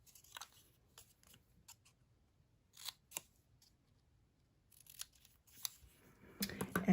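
Scissors snip paper banner ends for a handmade card in a quiet room, giving a handful of sharp, faint cuts spaced apart, with a brief rustle of paper near the end.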